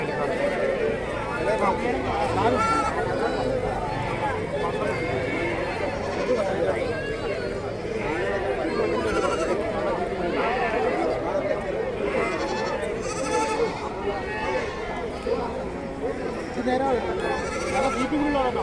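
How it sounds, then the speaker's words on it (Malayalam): Native-breed goats at a busy Kerala goat market, several bleats rising at intervals over a crowded background of people talking nearby. "ഇത് വേറൊരു ടീമിൻ്റെ ആടുകളാണ്"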